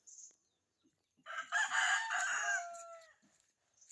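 A rooster crows once, loud and drawn out, in an otherwise quiet setting with a few soft clucks around it.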